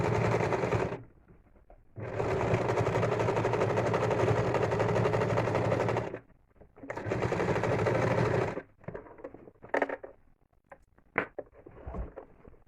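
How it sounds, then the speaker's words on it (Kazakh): Sewing machine stitching a quilted seat cushion, running in two long steady buzzing bursts with a short pause between, then stopping, followed by scattered handling clicks and knocks. "Қазір мына жерді тігіп шығамыз."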